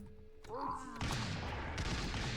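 Flintlock gunfire in the video game Ultratabs, a burst of booming shots crowding together after a short whooshing sweep, loud and dense against a low background.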